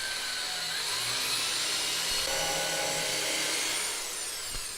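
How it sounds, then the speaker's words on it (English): Power drill driving screws into a wooden ITG2 dance pad replica, a continuous close high whine that rises and dips in pitch as the screw seats, loud and alone. "Drill the other 2."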